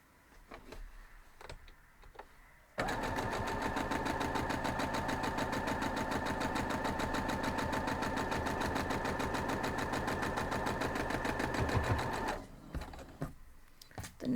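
A sewing machine stitches a quilt block seam in one loud, steady run of rapid needle strokes lasting about nine seconds, with quiet handling before and after.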